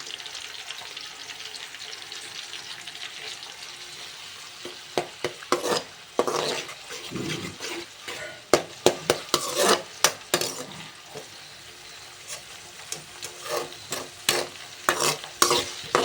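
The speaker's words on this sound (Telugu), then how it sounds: "ఆనియన్ ముక్కలు వేసి అవి కూడా బాగా ఫ్రై చేసుకోండి." Onion pieces fry in oil for egg fried rice while a spatula stirs them, a low sizzle at first, then a burst of sharp clinks and scrapes against the pan that comes and goes, with no talking.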